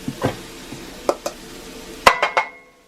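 Garlic and jalapeno dropped into oil in a cast iron pan, giving a quiet sizzle broken by a few sharp clinks and scrapes of a utensil against the pan, with no talking.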